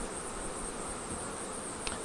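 Honeybees at a Flow Hive hum in a soft, continuous buzz, faint and steady throughout.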